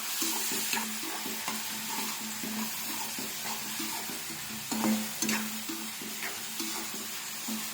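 Onion mixture frying in a pan for a taro root tamarind stew, with a low steady sizzle and repeated rhythmic scraping strokes of a spoon stirring, close up and moderately loud, no talking.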